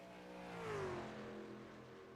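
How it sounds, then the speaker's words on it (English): Racing truck engine in a racing video game, revving then easing off and fading as the throttle shuts in a corner, a single falling sweep heard moderately close without talk. "You can hear that truck shut right off"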